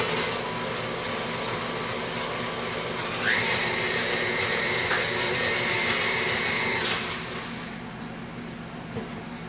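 An electric mixer with the wrong blade fitted, beating coconut flour brownie batter: a whirring motor whine that starts partway through, runs steadily for several seconds and then drops away, over a constant low background hum.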